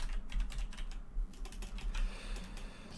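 Fingers tap rapidly on a computer keyboard while someone fills in a Spanish residency application form, a close, quiet clatter of uneven keystrokes with no talking.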